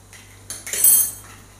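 A utensil scrapes and clinks against a pan while stirring egg and cabbage, one short clatter building and fading within a second or two, close by.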